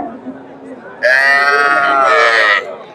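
A large Jersey cow, a four-toothed Friesian cross, lets out one long, loud moo at a busy cattle market, rising strongly and holding for about a second and a half over a background murmur of crowd voices.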